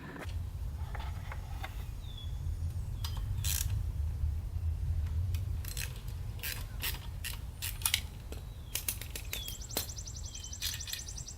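Metallic clicks, creaks and ratcheting from a tool working the bolt that holds the exhaust pipe on a Yamaha YSR 50 minibike, over a steady low rumble, with sharper close knocks in the later seconds.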